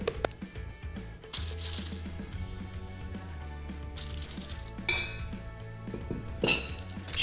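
Cake batter for a mascarpone-cherry torte is scraped and spread into a springform pan, giving soft scraping with scattered metallic clinks and sharper knocks of utensil against pan and bowl.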